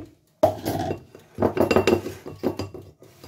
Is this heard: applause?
no